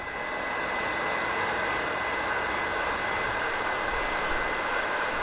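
A heat gun blows hot air steadily onto faded car trim plastic, giving a loud, continuous broadband whoosh close by that holds even for the whole stretch with no talking.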